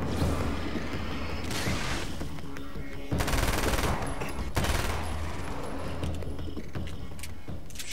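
Rapid automatic gunfire in the video game Alan Wake's American Nightmare comes in dense bursts separated by short pauses, loud and close, with clanking weapon mechanics between the volleys.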